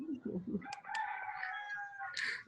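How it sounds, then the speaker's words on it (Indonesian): A rooster crows once, nearby and clearly, with a long drawn-out call that follows a few low clucks or murmurs at the start. "Ayam."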